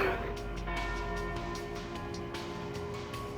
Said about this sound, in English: And there's the noon bell.